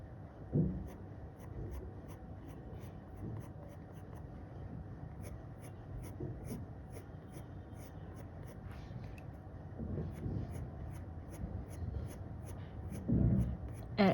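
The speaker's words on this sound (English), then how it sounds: "I'm just gonna go over the hair strands that I created just to darken them up a little" A sharp pencil draws hair strands on paper during an eyebrow drawing, giving soft continuous scratchy strokes with a few louder scrapes, close and quiet against faint steady background noise.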